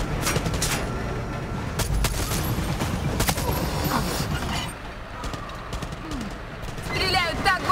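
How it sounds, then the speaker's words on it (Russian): Rapid bursts of gunfire in a Far Cry 6 firefight, loud and dense for the first few seconds, then easing off amid game ambience and bird-like chirps, with a voice speaking over parts of it. "Стреляют так, будто сами себя взорвать хотят!"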